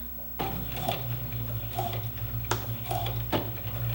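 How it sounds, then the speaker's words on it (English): A sewing machine runs steadily while stitching a double dart and reversing for a couple of back stitches, with a constant motor hum broken by light rhythmic ticking and short bursts. "and do a couple back stitches here"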